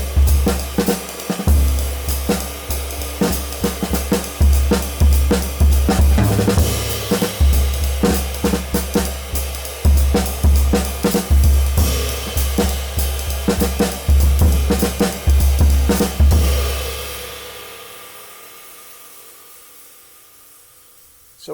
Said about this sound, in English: you'll also hear some melodic stuff and a little bit of a conversation going on between the snare drum and bass drum